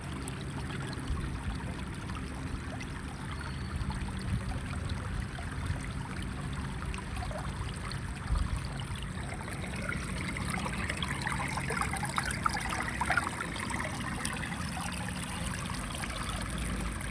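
Water trickling and gurgling between stones as it flows toward a lake, a steady close babble of running water throughout with a faint rustle, no voices.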